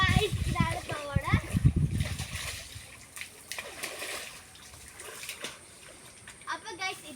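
Water of a small stream splashing and sloshing close by, loudest at first, with people talking over it throughout.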